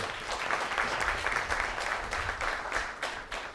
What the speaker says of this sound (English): You all deserve a big round of applause also.